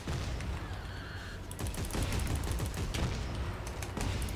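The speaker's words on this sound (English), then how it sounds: "Yeah, let's shoot it" A steady rattle of rapid gunfire in the sci-fi horror shooter Dead Space 3, dense and continuous over a loud rumbling game backdrop.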